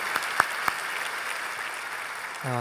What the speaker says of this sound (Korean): 우리 한웅재 목사님께 다시 한번 큰 감사와 격려의 박수 보내겠습니다